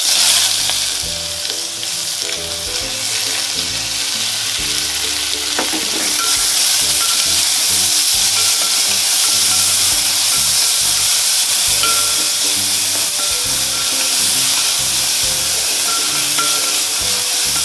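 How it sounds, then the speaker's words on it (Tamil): Onions sizzle loudly in hot oil with curry leaves and dried chillies in a pan: a dense, continuous frying hiss with occasional spatter and stirring clinks, growing slightly fuller midway, with no talking. "வெங்காயத்தை நல்லா கோல்டன் ப்ரௌனாக வர வரைக்கும் நல்லா வதக்கிக்கோங்க."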